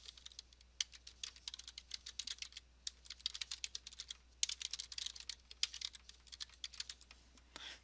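Quiet, rapid key presses on a computer keyboard while typing a sentence into Microsoft Word, an irregular patter of soft clicks with brief pauses, close and alone.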